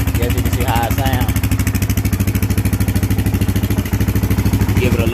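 A motorcycle engine idles loud and close through its original exhaust muffler, a fast, even thumping pulse with mechanical clatter, while a person talks over it.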